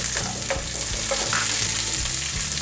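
Curry leaves and onion fry in hot oil for a black-eyed bean curry, a dense, steady sizzle broken by the repeated scrape and clack of a stirring spoon in the pan.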